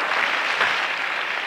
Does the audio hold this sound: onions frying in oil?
no